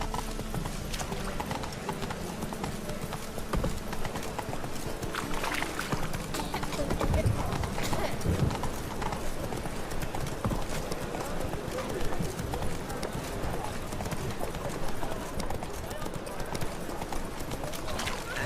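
Horse hooves clip-clop at a run in The Witcher 3, a steady rapid rhythm of hoofbeats over game ambience with a voice speaking now and then.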